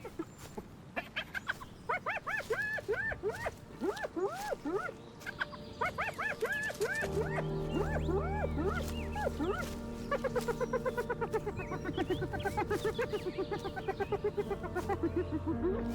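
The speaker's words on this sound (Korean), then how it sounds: "그것은 포효가 아니라 날카롭고 날카로운 웃음소리이며 경고처럼 울려 퍼집니다. 점박이 하이에나 무리가 오고 있습니다." At dusk, a pack of spotted hyenas fills the air with overlapping whooping cries and sharp, giggling laugh-like calls, dense and continuous for the whole stretch. A deeper rumbling layer joins about halfway through.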